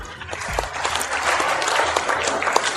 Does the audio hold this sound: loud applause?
yes